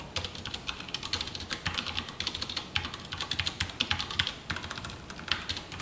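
Code is typed on a computer keyboard in a quick, continuous stream of close, crisp key clicks with small irregular bursts and no pauses.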